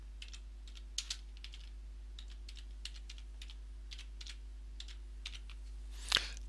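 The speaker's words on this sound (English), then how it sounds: "then I can type in the subcontractor Joe Soap" Typing on a computer keyboard, a steady scatter of light clicking keystrokes with brief bursts, close and clear over a low hum, ending with one louder click.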